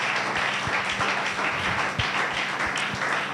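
A church congregation acclaims the Lord with rhythmic applause, clapping in a steady beat that fills the room at a moderate level without voices on top.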